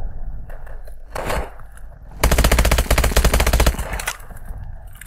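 Automatic gunfire from Call of Duty: Advanced Warfare rattles in rapid bursts, one short volley followed by a longer sustained stream of shots, loud and close, with no talking over it.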